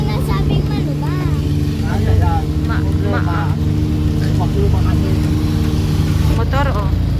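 A motorcycle engine drones steadily while climbing a steep rural road toward a campsite in Calamba, Laguna, a loud constant hum close by, with a voice talking over it.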